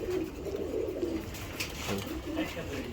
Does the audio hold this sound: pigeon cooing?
yes